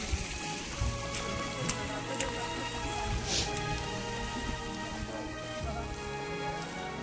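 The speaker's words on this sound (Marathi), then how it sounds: "इथे छोटासा धबधबा आहे" A small waterfall at Sinhagad fort splashes and patters steadily, a continuous close wash of falling water with scattered droplet ticks and no voices.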